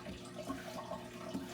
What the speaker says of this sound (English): I'm spraying the ground in front of Frank